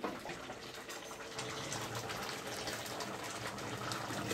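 Running water gushes and splashes steadily in a continuous, fairly close rush, as if from a filling tap, heard on its own without talk.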